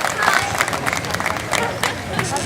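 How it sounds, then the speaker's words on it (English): A crowd at a raffle drawing applauds the bonus prize winners, a fairly close burst of mixed clapping and murmur with voices chattering through it. "Let's give all those bonus prize winners a big round of applause"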